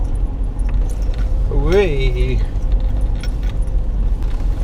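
Car keys jangle inside a vehicle driving off-road at Imber, a light metallic rattle beneath engine and road rumble while a person speaks and vocalises over it.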